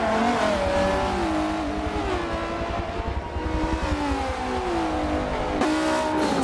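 Race cars lap Circuit de Catalunya in the video game Forza 7, with engines droning loudly and steadily as several cars run together. Revs rise and fall, and one sharp change comes near the end.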